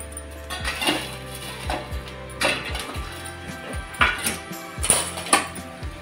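A metal lid is set back onto a pan of stuffed capsicum cooking on the stove, giving several sharp clinks and rattling taps spread unevenly over a few seconds.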